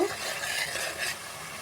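Tomatoes sizzle and fry in a hot pan while cooking down for a fish curry, a steady close hiss lasting briefly with no talk.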